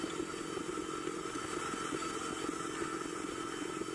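A milling machine takes a pass with a fly cutter, a faint, steady mechanical whir and rattle with a continuous motor drone throughout.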